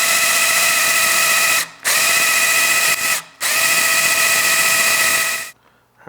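A drill motor spins a Buick Straight 8's oil pump to build pressure, giving a loud, high, steady whine in three long runs separated by two brief pauses, then stopping.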